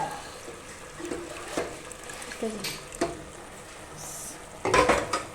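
A spoon stirs bottle gourd curry just after milk cream goes in, giving a few soft scrapes and clinks against the pot, with a louder clatter near the end; no talk.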